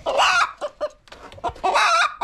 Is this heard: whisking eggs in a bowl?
no